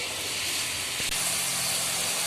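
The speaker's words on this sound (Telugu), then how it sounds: "ఇవి ఇలా బాగా ఎర్రగా అయ్యే వరకు వేపుకోవాలి. మీడియం మీద పెట్టి వేపుకోవాలి." Bitter gourd pieces fry in a pan over medium heat, a continuous close sizzling hiss with a single faint knock partway through.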